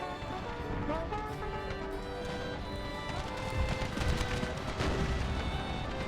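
Scattered gunshots and booming cannon fire from a 19th-century battle in Empire: Total War with the Brothers vs. Brothers mod, steady and fairly distant, layered over continuous battlefield din and a thin musical bed.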